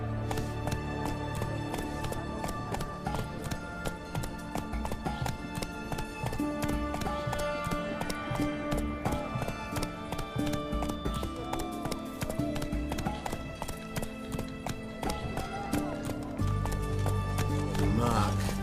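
Steady, rhythmic hoofbeats of a galloping horse in The Witcher 3 video game run throughout, clear and close, with soft game ambience underneath.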